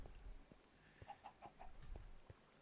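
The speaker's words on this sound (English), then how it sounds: "I hear chickens." Chickens in the Minecraft video game give a few soft, quick clucks in a short run, faint and set against low background noise.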